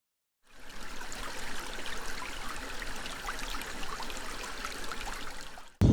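Water runs steadily near the pool area of a hotel resort under restoration, a continuous close rushing and trickling flow that starts abruptly and stops just as suddenly, with no talking.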